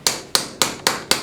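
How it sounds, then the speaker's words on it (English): A metal ring set on the ball end of a punch is struck with a hammer to texture it: five sharp, evenly spaced metallic taps, close and clear, each ringing briefly. "you can use hammers and put a texture on the ring"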